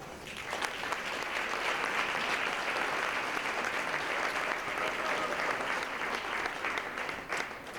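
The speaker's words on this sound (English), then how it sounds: "Perhaps we can give you a little applause." A crowd at an open house event in Austria applauds with steady, even clapping, fairly distant and moderately quiet, holding at the same level for several seconds.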